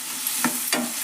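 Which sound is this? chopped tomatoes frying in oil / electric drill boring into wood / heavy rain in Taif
chopped tomatoes frying in oil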